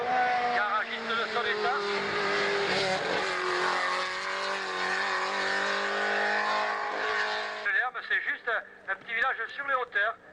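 A race car at a hill climb race roars past with a loud, sustained engine note, then fades into a choppy, revving burst as it moves off, while a commentator talks over it throughout.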